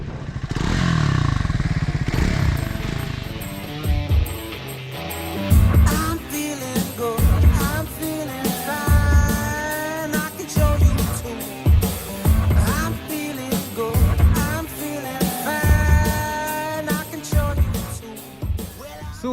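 Triumph Scrambler 400X motorcycle being ridden, with a steady engine drone and a series of rhythmic thumps and clattering bumps throughout, close and fairly loud, with no talking.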